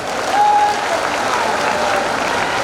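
A crowd at a large political rally claps steadily to welcome Kamal Nath, a dense, even wash of applause from a sizable audience lasting the whole moment with no voices over it.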